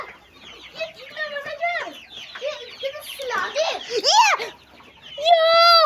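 Young chickens chirp and cluck in a rapid, uneven series, fairly close and moderately loud, with a voice mixed in among the calls.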